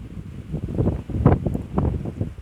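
Steady, low blustery autumn wind rumbles against the microphone outdoors on a balcony, with gusty swells throughout and no voices.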